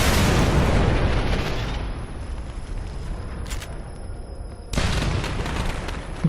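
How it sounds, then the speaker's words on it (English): Holiday-themed grenades explode in a first-person shooter game: a loud broadband blast opens, the rumble fades to a lower roar, then a second sharp burst hits near the end. "Christmas grenades, they're kind of fun."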